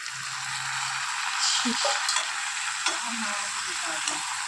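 Tomatoes go into a hot frying pan of browned paneer for chili paneer in a home kitchen, giving a steady close sizzle with scraping stirs and utensil clatter throughout.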